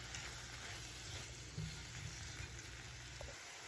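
Shrimp frying in a hot pan give off a constant, moderately loud sizzle with a few small pops and spatters. The sizzle holds steady on its own with no talking.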